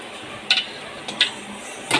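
Golden brown fried eggs are lifted out of a pan onto a plate, with three light metallic clinks and scrapes of a utensil against cookware over a low, quiet background.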